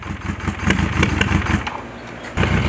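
A motorcycle engine cranks and sputters, struggling to catch on a cylinder that tends not to fire, with loud, uneven clattering pulses running throughout at close range.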